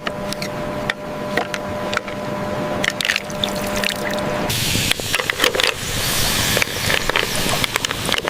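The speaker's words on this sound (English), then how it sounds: "Which he travels to a nearby waterfall to collect." A waterfall near a lake in the Alaskan wilderness gives a steady broadband rush of falling water that grows louder and fuller partway through, with no voices.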